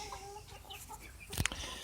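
A small flock of chickens, including a little rooster, clucks and murmurs softly while pecking at squash, with a sharper burst of scratching and flapping near the end.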